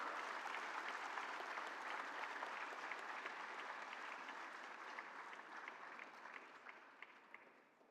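Sustained applause from a large audience at a startup festival contest, greeting the first-place winner; dense, steady clapping that fades gently toward the end, with no talking.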